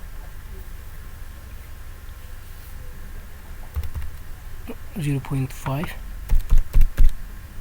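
Typing values on a computer keyboard for survival analysis graphs, a run of close, crisp key clicks building to louder taps near the end, with a voice speaking briefly over it.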